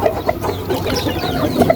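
Chickens and stag roosters clucking in a backyard pen after feeding, with several short, fairly close calls scattered over a steady low background.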